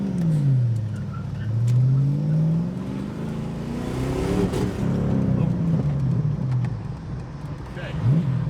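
Ford Mustang GT, an abandoned car with a fuel or ignition fault, revs in rising and falling sweeps, close and loud, with a brief stumble in the engine note midway.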